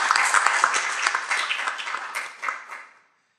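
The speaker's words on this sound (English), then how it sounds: "How about a round of applause for Dr. Webb?" An audience applauds a speaker at a talk, dense clapping that is strong at first, then thins and fades out to silence after about three seconds.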